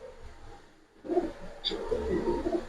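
Racer pigeons, a silver high-flying pair offered for sale, coo in low bursts close by, the calls starting after a brief lull and continuing with some rustling.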